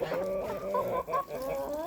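Farm geese screech in a steady run of harsh, harmonic honking calls, close and loud, with no pauses and no talk over them.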